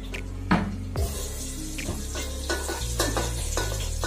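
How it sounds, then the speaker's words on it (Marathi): Chopped onion goes into a hot pan that already holds garam masala, with a sizzle that continues through the clip and several sharp clinks and stirring knocks of a utensil against the pan, all close up. "तर आता मी कांदा टाकते।"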